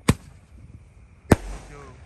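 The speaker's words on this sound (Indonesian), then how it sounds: "eksperimen menyalakan semua jenis mercon dan petasan malam hari ini" Firecrackers set off outdoors at night, two sharp loud bangs about a second apart, the second followed by a brief fizzing tail.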